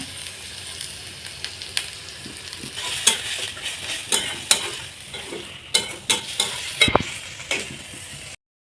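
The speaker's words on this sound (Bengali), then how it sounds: "আমি এখন এখানে হালকা সামান্য একটু নারকেলের দুধ দেবো" Coconut milk goes into a pan of simmering prawn malai curry with ginger paste: a steady close sizzle and bubbling, with scraping stirs and a few sharper clinks of the spoon against the pan.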